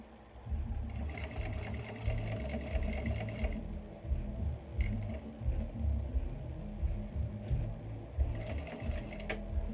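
Domestic sewing machine stitching a small fabric bag, a steady mechanical whir with rapid needle chatter in bursts separated by brief pauses, close and fairly loud, with no voices.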